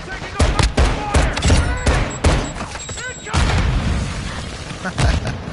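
Incoming gunfire in a video game battle: loud, close bursts of repeated sharp shots in uneven clusters, with brief pauses between volleys and a rumbling boom underneath.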